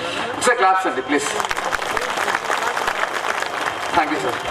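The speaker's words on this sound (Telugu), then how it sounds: "ఒకసారి క్లాప్స్ అండి ప్లీజ్." Audience applause at a public event, a steady burst of clapping from a crowd lasting a few seconds, close and fairly loud, with a voice speaking over it.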